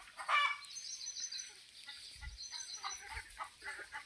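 Free-range chickens on a farm cluck and call at moderate distance, soft and intermittent over a quiet outdoor background, with a louder squawk near the start.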